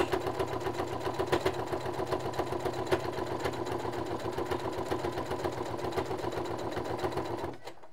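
A sewing machine stitches ribbed trim onto the fabric of a Teddy bomber jacket, its rapid, even mechanical chatter running close and steady before stopping suddenly at the end.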